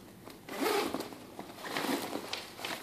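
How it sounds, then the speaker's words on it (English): Zipper on a Kipling bag drawn closed in a few quick close pulls, short raspy zips separated by brief pauses. "you can easily zipper that closed with it standing up and lying down"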